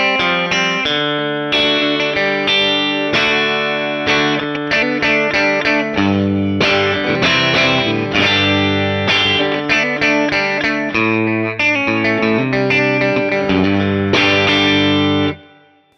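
Electric guitar fitted with Kinman '52 Blackguard Telecaster pickups, played on the middle pickup position with a distorted, effected tone; chords and riffs ring out loud and continuous without hum, then cut off at the end.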